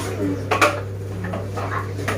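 Dishes and cutlery clatter in a busy home kitchen during washing up: scattered clinks with one louder clatter midway, over a steady low hum.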